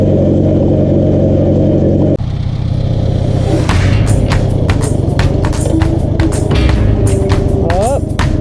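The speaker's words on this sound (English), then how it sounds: "Now we're going to take the tractor up to the field and see how it does." A repaired farm tractor drives up to a field, its mid-pitched engine droning steadily, then shifting in tone partway through as sharp clattering knocks and a rising whine join in.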